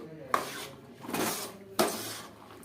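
Peanuts being stirred into hot jaggery syrup in a pan, heard as a few sharp metal scrapes and clinks of a spoon against the pan with sticky swishing strokes between them, close and moderately loud.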